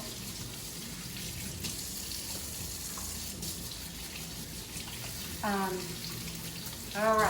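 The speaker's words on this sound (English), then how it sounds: "Let me just wash my hands." Hands washed under a running kitchen tap after handling raw chicken, a steady close gush of water, with a voice speaking briefly near the end.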